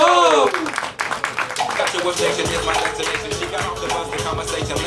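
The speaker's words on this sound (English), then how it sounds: "Clap it up." A comedy club audience at an outdoor comedy night claps in a scattered, moderate burst, starting under the tail of a host's voice and carrying on as a steady patter.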